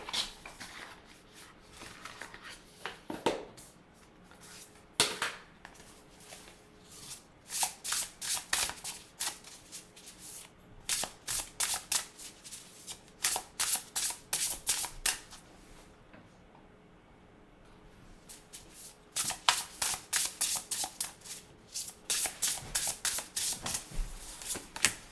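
A deck of tarot cards being shuffled by hand, repeated riffling bursts of crisp flicking and slapping in several runs, close and fairly quiet, with a brief pause midway.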